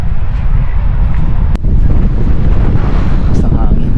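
Steady wind buffeting a microphone beside a lake along a dirt road, a loud continuous low rumble with a brief sharp knock near the middle.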